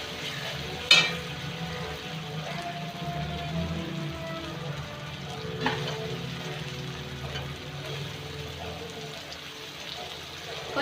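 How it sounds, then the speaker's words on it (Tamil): Dried anchovies frying in a pan with sautéed tomatoes give a steady, soft sizzle with occasional stirring clinks and scrapes, continuous throughout at moderate loudness. "இப்போ நம்ம கருவாடு போட்டுக்கலாம்"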